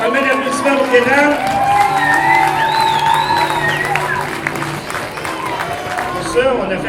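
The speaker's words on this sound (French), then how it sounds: "On va mettre l'applaudissement pour Gaétan." Audience applause and cheering fill an award ceremony hall for a volunteers' prize presentation, steady clapping with whoops and crowd shouts throughout, voices mixed in over the sustained ovation.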